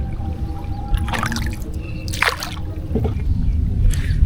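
Water splashes and sloshes in uneven bursts around a boat on a river steered by an old man, close and moderately loud with no talking.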